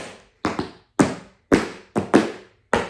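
Tap shoes clomping flat-footed on a step, about eight heavy, uneven strikes in loose pairs and singles, each a sharp thud with a quick decay, close and loud with no voices.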